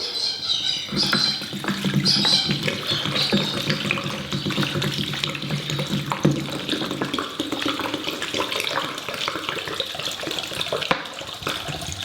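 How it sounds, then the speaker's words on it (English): A litre of kerosene poured and flushed through a car intercooler, giving a steady, close, rushing liquid gurgle like running tap water that continues unbroken throughout. "we're just going to stick a litre of kerosene through it"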